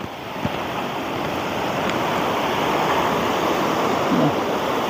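Sea waves at the Bãi Rạng fishing village wash in as a steady, loud, broadband roar, continuous throughout with no talking.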